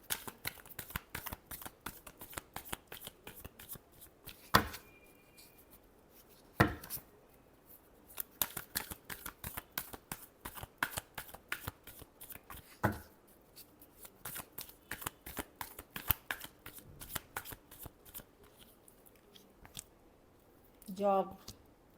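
A tarot deck is shuffled in brisk, close papery riffles that come in clusters separated by short pauses, with a few sharper taps between.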